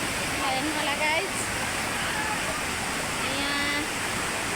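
A small hidden waterfall near Pokhara, Nepal, rushes in a continuous, loud wash of falling water close by. Faint voices and brief whistling tones drift in under the roar.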